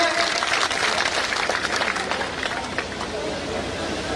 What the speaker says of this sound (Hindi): तालियों से इनका हार्दिक अभिनंदन स्वागत करेंगे